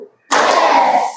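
Pupils in a classroom clap as one during a tepuk rhythmic clapping warm-up. After a brief pause, a single loud burst of group clapping sounds for about a second.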